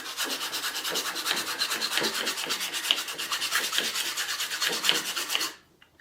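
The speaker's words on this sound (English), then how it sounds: "this 36 grit's where I take those vice marks out of the handle as well" A wooden axe handle is sanded with coarse 36-grit sandpaper in a workshop, giving a continuous, fast rhythmic back-and-forth rasping that stops abruptly at the end.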